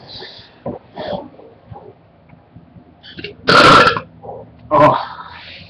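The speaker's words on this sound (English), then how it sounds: "Do you like my burps?" Several loud, raspy human burps erupt close up, two especially long and forceful near the end, separated by quieter throaty noises and breaths.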